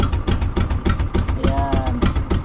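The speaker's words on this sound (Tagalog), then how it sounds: "Pinandar ko isang makina." Engine on a Philippine banca boat running at idle, a close, steady, throbbing rumble with a regular pulsing beat, while someone talks over it.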